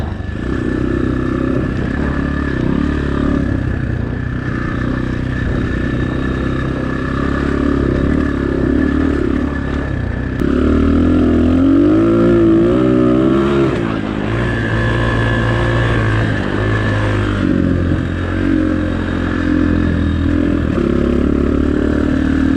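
An X-Pro Storm 250 dirt bike engine drones steadily and loudly on a forest trail in Sam Houston National Forest, its revs rising and falling as the rider shifts through the gears, with continuous engine noise throughout.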